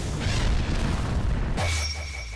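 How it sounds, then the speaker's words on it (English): Exploding blood attack in the fighting game Demon Slayer Hinokami Chronicles, a dense, continuous booming burst that rumbles for about a second and a half before giving way to a ringing, sustained tone. "Exploding blood!"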